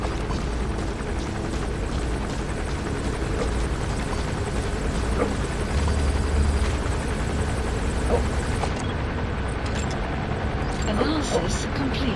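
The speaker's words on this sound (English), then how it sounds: "Looks like the arms dealer's chopper is gonna patrol for the security forces." In Metal Gear Solid V, an arms dealer's patrol helicopter drones steadily as a constant rotor rumble. A voice talks over it.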